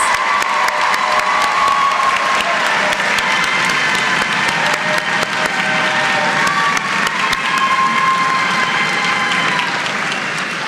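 A large commencement crowd at a social work school ceremony applauds award nominees with loud, sustained clapping mixed with cheers and whoops, holding at full strength throughout.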